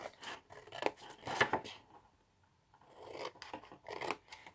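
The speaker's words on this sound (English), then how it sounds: "Then all you do after that is cut up these 1 2 3 score lines to your first score line." Scissors snip along score lines in paper while making a gift bag, a few close, crisp cuts in two short bursts separated by a quiet pause.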